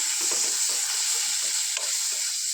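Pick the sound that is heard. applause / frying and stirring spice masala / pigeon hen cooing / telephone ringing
frying and stirring spice masala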